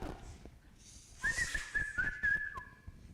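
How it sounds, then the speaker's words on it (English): A faulty, sometimes-broken whistle blown in bursts on an improv comedy stage, thin and wavering, trilling in short repeated notes over about a second and a half amid faint room noise. "This and my sometimes broken, sometimes it works kind of whistle."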